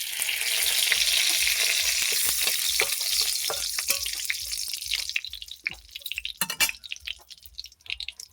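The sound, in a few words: bay leaf frying in hot oil in a pan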